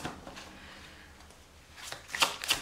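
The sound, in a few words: tarot cards being shuffled for a reading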